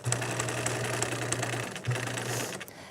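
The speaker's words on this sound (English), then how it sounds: "So I'm going to sew. I'm looking right at this line as it enters the groove." A sewing machine stitches along a marked line, running in a steady close hum for about a second and a half, pausing briefly, then running again.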